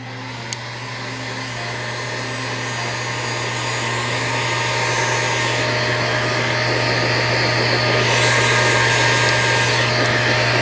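A heat gun blowing hot air onto heat shrink tubing on a repaired sump pump cord, a steady loud whooshing roar with a constant hum that swells slightly over time, running alone without talk.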